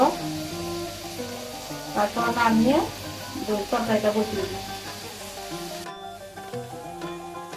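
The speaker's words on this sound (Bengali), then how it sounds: "আমি আলু দিয়ে ভেজে নেব" Ridge gourd and potato fry in a pan with a steady sizzle, broken by a few clattering stirs and scrapes. Someone speaks over it.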